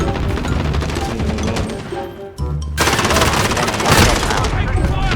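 Loud, dense automatic gunfire in the online shooter Call of Duty Warzone, rapid bursts close up with a brief pause partway through, the game audio filling the whole stretch.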